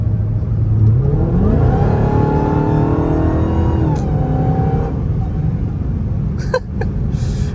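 Dodge Hellcat supercharger whine climbing as the car accelerates on a highway, a loud rising tonal scream over deep engine roar that peaks, then settles into a steady drone, with a few short clicks and knocks near the end.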